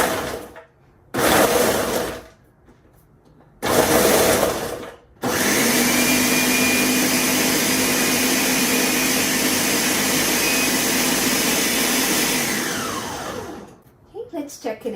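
A food processor blitzes a macadamia nut crust mixture with a pinch of salt: two short pulses, then a long, loud continuous whir of roughly seven seconds that winds down as the blade stops, no talking over it.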